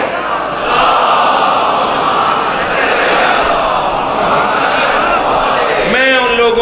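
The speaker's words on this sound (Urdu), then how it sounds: "ذرا بلند تر صلوات پڑھو۔" A majlis audience loudly reciting salawat in unison, a dense roaring crowd chant that fills the space, ending as a single voice breaks in.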